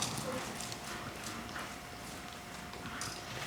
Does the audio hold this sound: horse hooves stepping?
yes